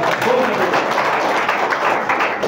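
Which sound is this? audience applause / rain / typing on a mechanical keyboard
audience applause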